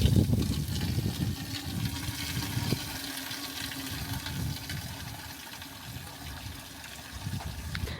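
Water pours steadily from a pipe at a village water-drawing well, a continuous close splashing rush that holds for several seconds with no one speaking.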